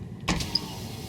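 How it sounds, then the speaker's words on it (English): Driver's-side power window of a Japanese K-car mini car whirring as it moves, a brief motor hum starting with a soft thunk, fairly quiet and close inside the cabin. "the driver's side window is automatic, so I'll show you that really quick"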